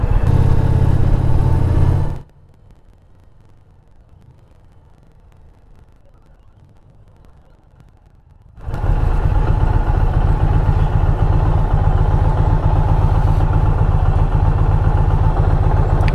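An Indian Pursuit motorcycle engine runs loud and close with a steady throbbing idle. It cuts to near silence for several seconds, then returns just as strongly and keeps running.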